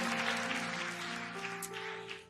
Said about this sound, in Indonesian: Sekali lagi beri tepuk tangan yuk buat Tuhan kita Yesus Kristus.